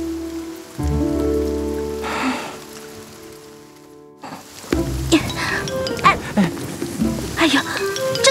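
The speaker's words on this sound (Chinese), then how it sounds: "你看这雨越下越大了" Heavy rain pours outdoors in a period drama scene, a steady loud hiss of drops on surfaces that swells and drops back, with a brief lull near the middle and sustained tones beneath it.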